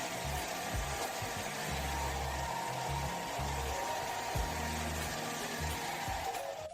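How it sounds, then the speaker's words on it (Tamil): A hair dryer runs steadily throughout, drying hair after a home haircut, with a continuous airy whoosh and a fluctuating low motor hum and no voices. "முடியை முழுமையாக ஹேர் ட்ரையர் மூலம் உலர்த்தவும்"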